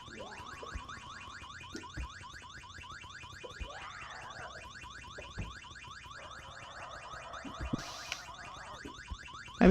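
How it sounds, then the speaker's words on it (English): A loud, rapidly pulsing electronic alarm blares without pause in the survival game VEIN, its harsh repeating tone steady for the whole stretch with no one speaking over it. "Maybe they're trying to go and turn that damn alarm off."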